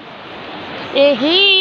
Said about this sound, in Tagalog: Lakas ng alon dito guys, kaya kailangan nating mag-ingat.